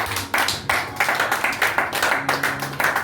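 A church congregation at a Pentecost service claps in a steady, lively rhythm, roughly three claps per second, loud and close, with little speech over it.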